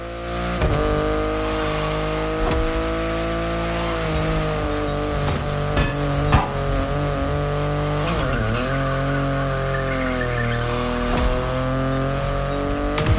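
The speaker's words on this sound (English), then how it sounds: "The BMW i8 is a car that stands out from the crowd." Engine of a BMW i8 in a racing video game, a steady sustained drone with shifting pitch as it revs, plus occasional tire squeals, continuous and loud with no talking.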